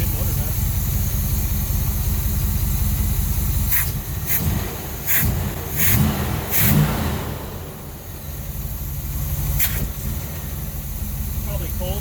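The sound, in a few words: 1969 Chevy Caprice 427 big block engine idling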